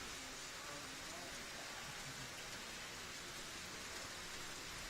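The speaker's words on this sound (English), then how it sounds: "But this rain persistent." Steady, persistent rain falls during an outdoor lawn bowls match at a women's triples final, a faint, even hiss throughout with no talk.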